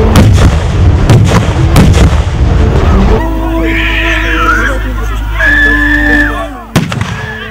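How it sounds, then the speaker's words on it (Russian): Gunshots and explosions at a reenactment of the first day of the war in Brest, with German and Soviet sides: loud dense bursts of firing at the start, then a sustained roar with whistling tones and a final sharp blast near the end. "звучат леденящие души выстрелы и взрывы"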